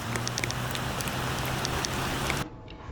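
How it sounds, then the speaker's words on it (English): Steady, even wash of rain falling, dense and constant with no pauses, cutting off abruptly near the end. "So we're just hanging out in the rain."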